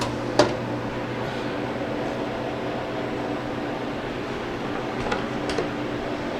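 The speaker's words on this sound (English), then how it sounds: "get them in the freeze dryer." A freeze dryer runs with a steady mechanical hum and fan-like whir while chilled apple pie filling freezes inside, with a few faint clicks and knocks on top of the constant drone.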